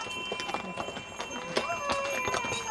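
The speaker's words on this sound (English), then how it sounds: "There's my horse." A horse in Yunnan clip-clops with a quick, regular run of hoof strikes on hard ground, close and clear, with a faint ringing tone in the background and brief talk.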